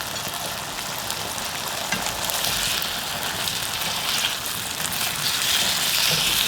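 Chicken drumettes simmering in a soy sauce glaze with chili peppers on raised heat give a steady, close bubbling sizzle throughout, with no talking.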